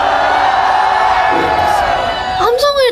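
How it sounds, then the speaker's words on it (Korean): Fans at a K-pop showcase for a group's fifth mini album cheer and scream loudly and continuously, with a voice rising above the crowd at the end. "함성을 다 지르신 거 맞나요?"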